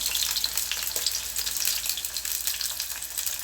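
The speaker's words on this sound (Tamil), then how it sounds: "வெங்காயம் நல்லா வதங்கட்டும்" Onions and garlic sautéing in hot oil in a pan for Chettinad venthaya kuzhambu, a steady bright sizzle with small crackles and occasional stirring.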